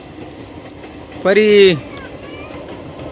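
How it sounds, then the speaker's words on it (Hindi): A local train passes nearby in a hilly Indian village, with a short, loud, horn-like blast lasting about half a second over a steady rumble, while a voice speaks. "लोकल ट्रेन गुजर रही है"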